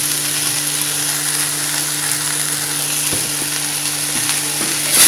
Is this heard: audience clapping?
no